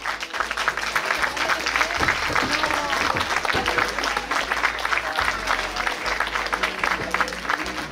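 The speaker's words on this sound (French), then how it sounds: "On peut l'applaudir bien fort, s'il vous plaît, mesdames, messieurs" Audience applause at an award ceremony during a prize-giving finale, sustained, dense clapping from a crowd throughout, fairly steady in level with faint voices mixed underneath.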